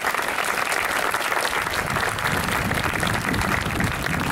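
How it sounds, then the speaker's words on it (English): A large crowd at a Memorial Day ceremony at Fort Rosecrans National Cemetery gives a sustained round of applause, a dense, steady wash of many hands clapping with no break throughout. "Let's give them a big round of applause."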